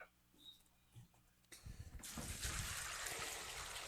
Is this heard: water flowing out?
yes